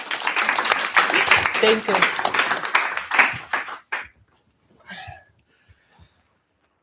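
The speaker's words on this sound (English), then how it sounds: "So please applaud her for being here." An audience claps warmly at a talk on neuroplasticity, a dense burst of applause lasting several seconds before fading out, after which a voice briefly says thanks into the quiet.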